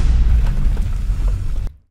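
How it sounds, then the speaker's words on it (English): An explosion in a GTA 6 game trailer lands as a loud, heavy boom with deep rumbling that holds for over a second before cutting off abruptly. "We got a little explosion."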